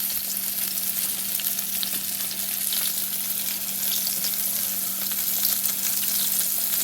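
Pork chops fry in a pan, producing a steady, even sizzle with a faint hum and no voices.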